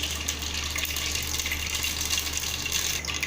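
Mustard seeds spluttering in hot oil inside a cooker, a steady close sizzle with dense crackling that holds evenly throughout, and no voices.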